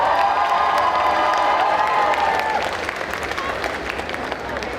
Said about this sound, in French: Je vais vous demander de lui faire un tonnerre d'applaudissements pour son interprétation de Blanche-Neige.